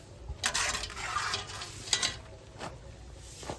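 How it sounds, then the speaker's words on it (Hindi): Dishes and pots being scrubbed and washed by hand, with scattered clinks and rubbing scrapes over a faint steady background hiss. "हमर बर्तन मज रहल छै ओहो रगड़ रगड़ क"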